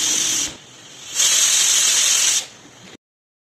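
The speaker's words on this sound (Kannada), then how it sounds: "ಕುಕ್ಕರ್ 2 ಸೀಟಿ ಹೊಡಿತು" A pressure cooker boiling gooseberries lets out two loud hissing bursts of steam through its whistle, a short blast followed by a longer one, then cuts off.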